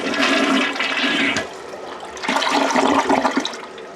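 A toilet flushing in a house whose water system is being brought back from winterization after antifreeze was run through it, a loud close rush of water that dips briefly midway and then surges again as the bowl refills.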